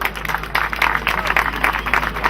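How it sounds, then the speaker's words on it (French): A crowd applauds on the podium at the Paris-Montparnasse cycling race, a quick burst of close, dense clapping that holds steadily over a low background hum. "sur le podium de Paris-Montparnasse, des applaudissements pour Jason Rousseau."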